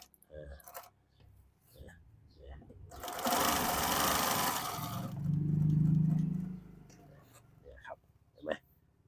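Baoyu BML-20U93D direct-drive zigzag sewing machine stitching a patch onto a shirt, a steady loud mechanical whir lasting a few seconds between quieter handling clicks, with someone talking around it.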